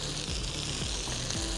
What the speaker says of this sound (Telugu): దీన్ని చక్కగా వేయించేసి